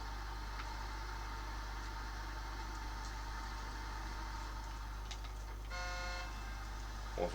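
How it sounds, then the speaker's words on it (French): A truck horn in the Snowrunner video game gives a short, weak honk near the end over a constant low engine drone. "son klaxon il est un peu pourri"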